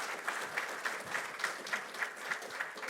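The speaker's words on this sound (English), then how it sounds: "So another round of applause for Administrator Bose." An audience at a passenger rail summit applauds steadily for about three seconds, a moderately distant, even wash of clapping with no one speaking over it.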